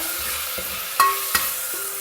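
Green peas and rice being sautéed together for paneer pulao, with a steady soft sizzle and a couple of sharp clinks from stirring in the pan, close by and without talk.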